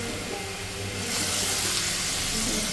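Marinated khoira river fish going into hot oil with mustard, giving a loud, continuous close sizzle that swells and holds steady with a bright hiss.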